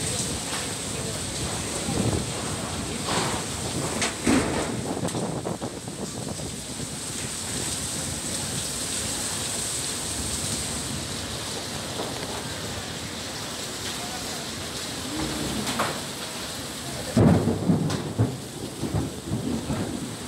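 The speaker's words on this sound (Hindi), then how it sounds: "तेज हवा और ओलावृष्टि के साथ ही तूफानी बारिश" A thunderstorm over Nanded, Maharashtra, brings heavy rain and strong wind with hail: a constant dense hiss of rain under gusting wind, broken by deep thunder rumbles near the start and again louder toward the end.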